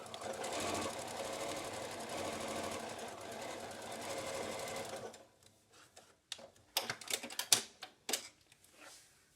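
A sewing machine hems a fabric edge on an N95 mask cover, running in a dense continuous mechanical rattle for about five seconds, then stopping as scattered light clicks and handling taps follow.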